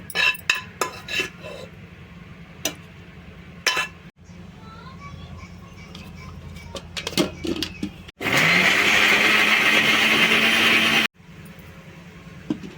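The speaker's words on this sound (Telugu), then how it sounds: "మిక్సీలో వేసేసుకుంటున్నానండి, మిక్సీ పట్టేసుకుందాం. బాగా మెత్తగా మిక్సీ పట్టేసుకోవాలి" A mixer grinder blends masala paste for an egg curry, a loud, steady whirring burst of about three seconds that starts abruptly after scattered clinks of kitchen utensils and cuts off just as suddenly.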